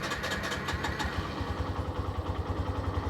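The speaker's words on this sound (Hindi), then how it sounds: "ये दूसरे अटेम्प्ट में बाइक स्टार्ट हुई है" A Bajaj Pulsar NS 125 or Hero Xtreme 125R motorcycle engine idles with a steady, low, pulsing chug after a brief rougher burst at the start, heard close and without voices.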